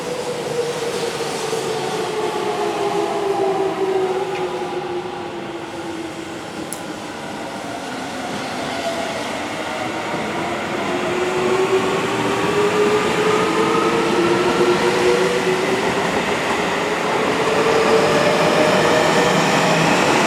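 Seibu Railway 20151F limited express bound for Ikebukuro departs Kotesashi station, a steady loud rolling rumble with rising electric motor whine tones sweeping up and down as it pulls away, continuous for the full length.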